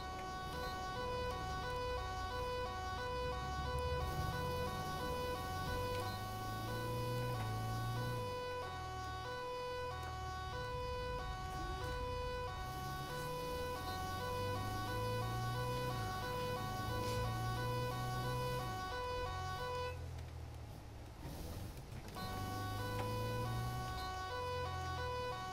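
Police car sirens wail steadily in the GTA 5 LSPDFR video game, a continuous layered emergency tone running nearly the whole time over game engine and traffic noise, briefly dipping near the end.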